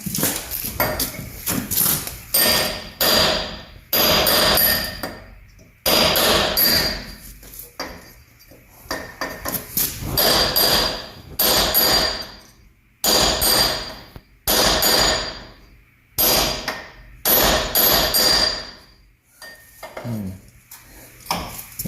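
A hammer drives a steel chisel on a 1971 Chevy pickup, giving loud, close metallic blows struck in rapid bursts separated by short pauses.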